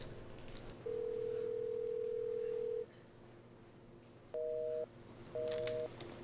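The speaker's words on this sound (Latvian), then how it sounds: "Es tikai uzzvanīšu Zīli" Telephone tones heard as someone places a call: a long steady dial tone followed by two short dual-tone dialing beeps, clear and fairly quiet over a faint room background, with no talking.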